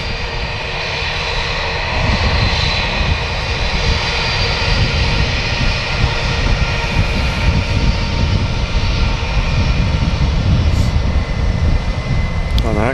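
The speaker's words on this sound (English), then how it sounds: "Aircraft on approach up there, I can see him on the way in." Qatar Airways Boeing 777 on approach to Manchester Airport, a loud, steady roar of jet engines sustained throughout, building slightly as the aircraft nears, with no voices over it.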